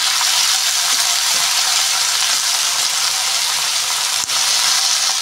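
Labra, a mixed vegetable curry, is sautéed in a pan, a loud, close, constant sizzle and hiss of frying that runs unbroken throughout with no talk.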